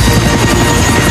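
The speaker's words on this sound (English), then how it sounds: "Harold the helicopter touched down gently in the snow" A helicopter sets down in snow, its rotor and engine giving a loud, steady, dense roar with a faint rhythmic chop throughout the short stretch.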